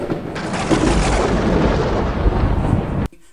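A thunder sound effect made for a theatre production of Sondheim's Company rolls as a loud, sustained rumbling boom for about three seconds, then cuts off abruptly.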